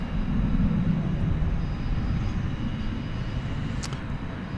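An American Airlines Airbus A320 arriving from Austin at night at DFW, its steady low engine rumble holding at a constant distance with no voices over it.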